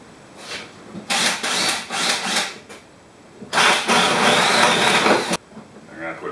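A power drill bores a hole through the bottom of a plastic bucket in two loud whirring bursts, the second longer and steadier, with a quiet pause between them.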